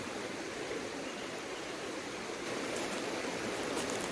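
Steady rushing stream water in Tioga State Forest, a continuous broadband wash heard close and alone, without a break across the clip.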